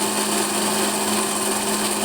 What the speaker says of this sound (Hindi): देखिए हम इसे ग्राइंड कर लेते